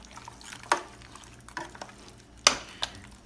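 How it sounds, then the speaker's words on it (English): Chicken being stirred with mayonnaise in a bowl, giving a few soft, wet squelching strokes spaced apart, fairly close and fairly quiet, with no voices. "now I'm gonna start stirring it"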